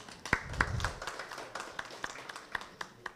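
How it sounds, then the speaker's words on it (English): Scattered applause at a Furaha City press conference: a few hands clap in sparse, uneven bursts, the sharp individual claps fairly quiet and spaced apart over several seconds. "can we just do a round of applause for those guys?"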